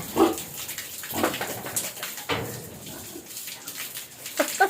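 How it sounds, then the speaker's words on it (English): A sow splashes and plays in water from a watering system on a pig farm, giving bursts of sloshing and splashing with soft animal grunts and whimpers between them. "She's playing in the water now."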